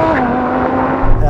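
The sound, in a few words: Audi R8 and RSQ8 accelerating in drag race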